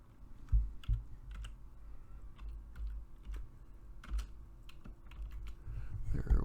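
Computer keyboard tapped with one hand, sparse irregular key presses, faint and close, over a low hum with a rustle near the end.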